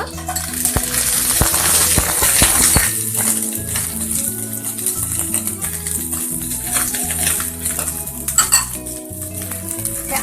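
Cauliflower and potato pieces frying in hot oil in a pan for a curry, with metal spoon scrapes and clinks against the pan over a steady sizzle, loudest early on.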